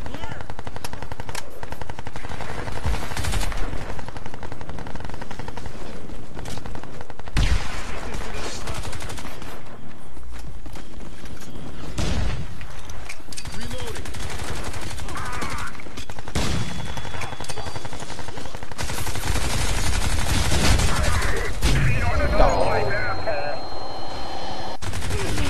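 Sustained multiplayer gunfire from Crysis 2, with rapid automatic bursts and scattered shots overlapping throughout, loud and dense with occasional louder nearby blasts.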